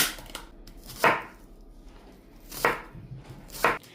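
Several sharp knife strokes chop through vegetables on a cutting board for a beef stew, three distinct thuds spaced irregularly a second or so apart, close and clear with no talking.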